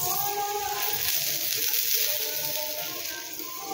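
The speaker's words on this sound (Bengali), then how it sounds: "প্রথমে এটাকে একটু ভেজে নিয়ে তারপরে বাড়িয়ে এপিট ওপিট করে ভেজে নিতে হবে" Mooli paratha shallow-frying in oil on a pan, first on lower heat and then turned on both sides: a steady, close, broadband sizzle that holds evenly throughout and eases slightly near the end.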